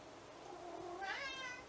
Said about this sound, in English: my cat is an asshole right now. I think this is my 5th try and he just keeps on going around screaming